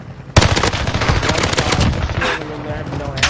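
Heavy gunfire in a battle royale video game starts abruptly after a quiet moment: dense, overlapping rapid shots and bursts, loud and close, with a voice briefly audible underneath.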